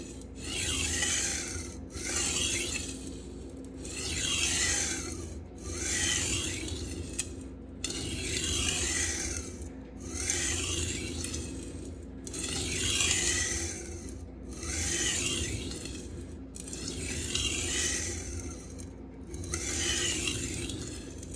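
An S35VN steel knife is stroked across an Atoma 140 diamond plate in a steady rhythm of about ten long, gritty rasping passes, each separated by a brief pause, close and continuous without speech.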